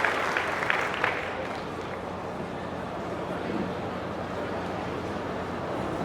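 An audience at a climate-change panel opening claps steadily and evenly across the whole stretch, a moderate sustained round of applause without talk.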